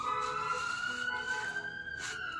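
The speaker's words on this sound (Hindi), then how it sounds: "और इधर एम्बुलेंस आ जाता है।" An ambulance siren wails steadily, its tone slowly rising, fairly close and loud with no talking.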